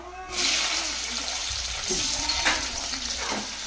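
Onions and green chillies fry in hot oil with mustard seeds, a steady broad sizzle running throughout with a few scraping stirs over it, close and fairly loud, no talking.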